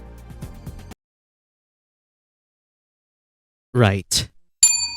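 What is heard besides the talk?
bell ding sound effect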